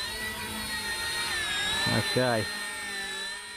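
An RC ERA C187 Eurocopter EC135 model helicopter lifting off, its thin electric whine climbing steadily in pitch, close and fairly loud, with a brief spoken word partway through.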